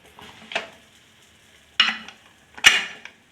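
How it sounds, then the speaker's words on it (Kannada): Three sharp metallic clanks ring out as a pressure cooker lid is set and shut while cooking mutton chilli fry, a light knock first and then two louder, close impacts with brief ringing decay and no talk. "ಮತ್ತು ಕುಕ್ಕರ್ ಮುಚ್ಚುತ್ತಾ ಇದ್ದೀನಿ."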